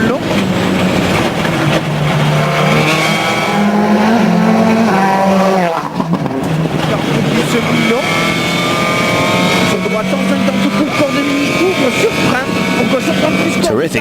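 Citroën C4 rally car at racing speed on a tarmac stage, a loud sustained engine note with rising and falling revs across the whole stretch, heard from close by under commentary.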